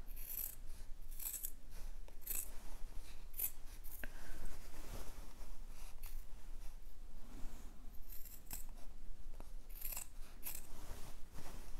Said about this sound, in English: I will trim the seam allowance down